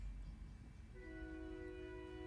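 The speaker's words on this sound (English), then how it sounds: "There goes the train, by the way." A train passing at a distance, announced by a sustained horn that starts partway through and holds steady over a low, faint rumble, with no talk.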